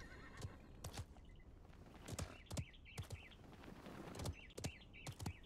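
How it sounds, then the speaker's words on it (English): Birds chirp in the ambient scenery of the Realm Royale video game, short high twittering calls mixed with a horse whinnying and hooves clip-clopping, several sharp thumps breaking in throughout. "Do you guys hear the birds?"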